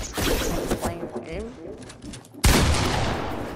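Gunfire in the Fortnite video game arrives in bursts, loud and close, with voices talking over parts of it and a heavy blast of shots near the end.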